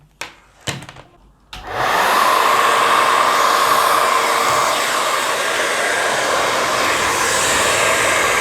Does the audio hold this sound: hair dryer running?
yes